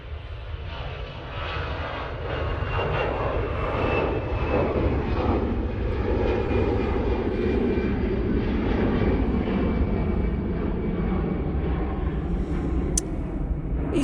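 EasyJet airliner bound for Reykjavik departing runway 23 right at Manchester Airport in the dark, its engines giving a continuous loud, broad roar with a faint high whine, rumbling steadily throughout.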